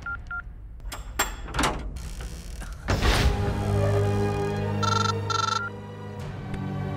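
Telephone dialing in a Hindi-dubbed South Indian action film: a series of short keypad beeps and clicks, with a louder thump midway, over a steady background drone and no speech.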